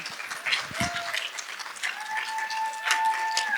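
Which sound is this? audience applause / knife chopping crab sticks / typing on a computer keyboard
audience applause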